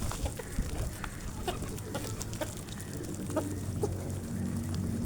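Chickens cluck in scattered bursts while being fed outdoors, with other birds chirping around them and a low, steady background murmur throughout.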